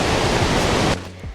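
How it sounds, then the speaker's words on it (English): Iguazu Falls on the Argentine lower circuit roar with a loud, dense, continuous rush of falling water that cuts off abruptly near the end, leaving only a low rumble. "the views of the waterfalls are better on the Circuito Inferior"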